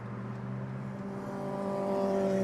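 A 2004 Chevrolet Monte Carlo Dale Earnhardt Jr. Signature Edition accelerates on the road, its engine hum rising steadily in pitch and loudness, heard from inside the car, with no voices.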